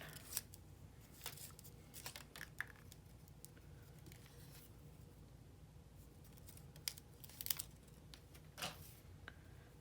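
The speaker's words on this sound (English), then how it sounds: "I'm just going to trim the ends even" Scissors trim the ends of card paper for a handmade sympathy card, a quiet series of short, crisp snips and rustles at close range.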